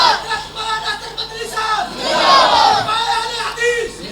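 A crowd at a religious gathering roars out a slogan in unison, a loud massed chant that swells and holds over a couple of seconds, with scattered voices around it.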